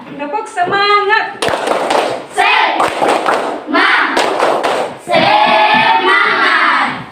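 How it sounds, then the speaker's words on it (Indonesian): A school class does a rhythmic spirit clap, sharp clustered hand claps in quick patterned bursts mixed with loud group chanting voices, the bursts separated by brief pauses. "Tepuk semangat."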